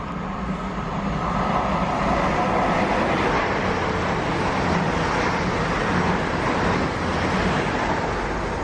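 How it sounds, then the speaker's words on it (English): A passenger train from Sheffield passing at steady volume, a broad continuous rumble and rush of wheels and engine holding for several seconds with some road traffic mixed in, no voices. "that's another train from Sheffield"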